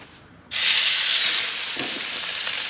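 Salmon fillet placed flesh side down in a hot cast iron skillet, with a sudden loud sizzle that bursts in and then holds steady as a bright, continuous hiss.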